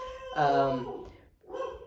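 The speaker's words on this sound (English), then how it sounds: "My dog agrees." A pet dog gives two short barks, the first longer and whining, the second a brief yip after a pause, close and fairly loud, indoors.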